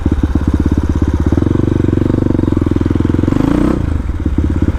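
A supermoto motorcycle engine thumps loudly at close range with a rapid, even pulse, then a quick throttle blip sends the revs climbing before they drop back to a steady idle.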